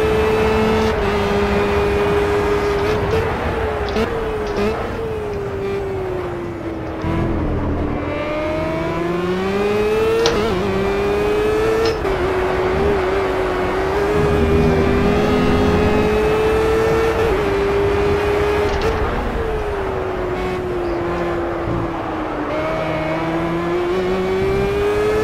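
Race car engine in the Project CARS video game, revving hard and loud without a break, its pitch rising and then dropping sharply at each clutch flat shift. No voices.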